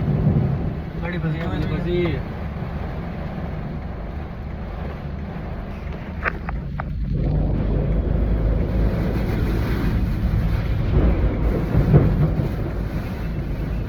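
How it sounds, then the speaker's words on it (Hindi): Heavy rain in a cold storm while a car is stuck on a trip from Roorkee toward Kashmir, a steady loud wash of wind and rain with low rumbling throughout and a brief burst of clatter near the middle. "ठंडा स्टॉर्म के साथ साथ बहुत ज़्यादा बारिश हो रही है यहाँ पे"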